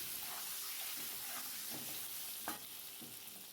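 Salt and turmeric go into a hot pan of frying food, giving a steady, close sizzling and crackling with faint stirring scrapes, and no voices.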